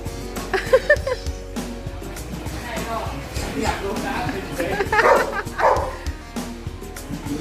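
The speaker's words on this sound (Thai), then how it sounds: "เห่าเหรอ" A small dog gives a few yipping barks and whimpers close by, scattered between people chatting and laughing in a home.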